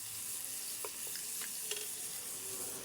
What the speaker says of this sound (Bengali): ঘিটা একটু ভালো করে গলিয়ে নেব।